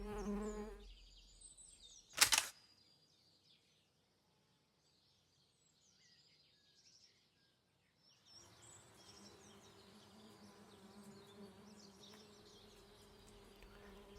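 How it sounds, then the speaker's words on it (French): A violet carpenter bee (Xylocopa violacea) buzzes in a garden, the drone coming and going near then fading, with a sharp knock early and soft birdsong in the background. "l'abeille charpentière, ou Xylocope violet."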